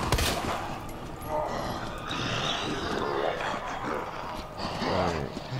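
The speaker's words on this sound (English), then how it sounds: "How many times have I gotta shoot these guys?" Gunshots in the Resident Evil 2 VR video game ring out repeatedly amid grunting enemy noises and ambient game sound, with a person speaking over the action.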